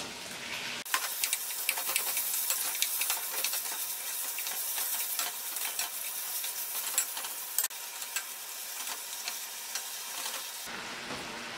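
Pork frying in a pan with garlic for Ilonggo-style valenciana, a steady bright sizzle with stirring scrapes and occasional clinks, close and continuous for about ten seconds with no talking.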